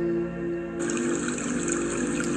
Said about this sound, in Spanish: sonido de cascada de fondo.